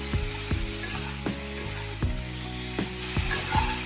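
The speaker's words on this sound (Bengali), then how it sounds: "এবারে আমটা তেলের সাথে 1 থেকে 2 মিনিট ভাজবো।" Mango pieces frying in oil with salt and turmeric, a steady close sizzle broken by regular clicking stirs about every two-thirds of a second as a spoon scrapes the pan, with no voices.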